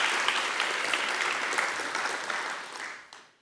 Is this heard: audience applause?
yes